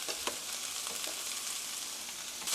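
Oyster mushrooms stir-fry with golden onions in a pan, a constant bright sizzle with a few quick scrapes and taps of the utensil, close and moderately loud.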